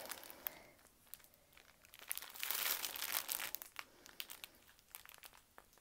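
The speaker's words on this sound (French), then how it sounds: "Sans faire trop de bruit, parce que le bruit du papier" Paper crinkles and rustles close by while diamond painting supplies are unpacked, building to a dense crumpling burst in the middle before tapering to scattered crackles.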